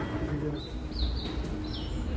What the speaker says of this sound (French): dans le métro, il y a des oiseaux qui chantent.